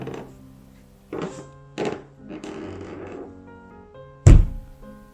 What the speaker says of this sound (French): en pleine nuit, des coups retentissent dans la maison